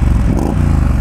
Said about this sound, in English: We can even rev the engine.